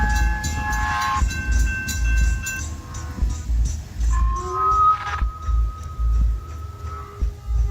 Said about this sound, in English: One friend was recording the train pulling away